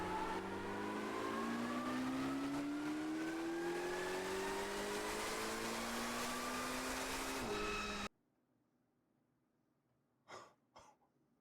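A Chevrolet Corvette C8 ZR1 on a dyno screams with a rising engine whine that climbs steadily for several seconds, then cuts off abruptly, followed by quiet and a couple of brief coughs.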